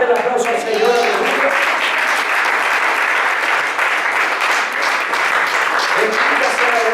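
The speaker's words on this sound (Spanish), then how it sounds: "Déselo fuerte el aplauso al Señor." A church congregation breaks into loud, sustained applause for the Lord, a dense roar of many hands clapping steadily for several seconds, with cheering voices mixed into the din.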